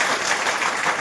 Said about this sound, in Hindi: ये ताली हो जाए सर के लिए।